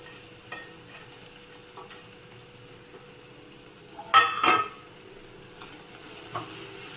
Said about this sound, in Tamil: இப்போ நம்ம அதை வறுத்து வச்சுருக்கிற ப்ரெட்டு துண்டை போட்டு நல்லா கிளறி விடலாம்.